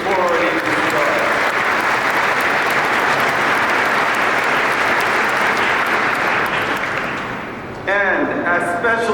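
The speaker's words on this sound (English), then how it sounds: "let's give them a round of applause before it even starts" A luncheon ceremony audience applauds the honorees with loud, sustained clapping that fills the room, fading slightly before a voice begins speaking near the end.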